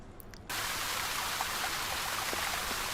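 Fountain water jet switched on in Secret Files 2: after a quiet moment the water bursts on abruptly into a steady, loud, hissing rush that continues unbroken to the end.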